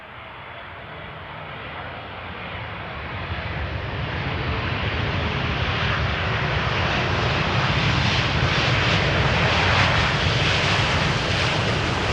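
A KLM Boeing 787-9 airliner arriving from Las Vegas approaches runway 18R at Amsterdam Schiphol, a broad jet roar that swells steadily as it nears, loud and unbroken with no talking.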